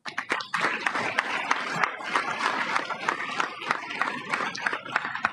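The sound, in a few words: ministers and guests applauding standing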